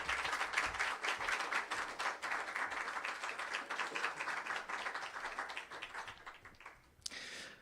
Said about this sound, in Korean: 학생들이 나올 때 격려와 응원의 박수를 보내주시면 감사하겠습니다.